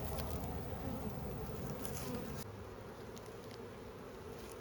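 Honey bees buzz in a dense, faint hum inside a hive full of frames, steady and continuous with soft rustling and no talking.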